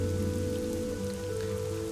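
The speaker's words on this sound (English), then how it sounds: "Hopefully the rain will stop by then." Steady rain falling on surfaces in the video game Fall of Porcupine, a constant even patter throughout, with low sustained tones underneath.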